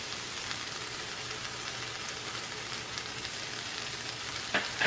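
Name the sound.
spices, bay leaves and paprika frying in a pan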